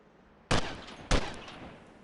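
Two sharp, loud gunshots in the Delta Force Task Force Dagger video game, about half a second apart, each a crisp crack with a short echoing tail against a quiet background.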